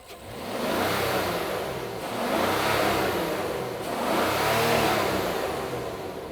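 A Rolls-Royce Cullinan Black Badge, 600 horsepower, with its upgraded sports exhaust, revs three times in smooth rising and falling swells, a deep refined engine note heard from nearby with no talking.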